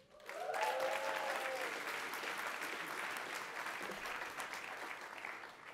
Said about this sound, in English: your applause has been long